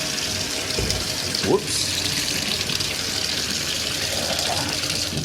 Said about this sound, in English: Might be able to see it if I turn the water on a little bit.